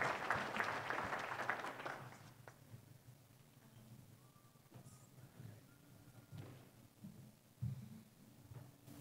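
An audience at an agriculture panel session applauds to welcome the panelists, a brief burst of clapping that dies out within two seconds, followed by quiet room noise and shuffling.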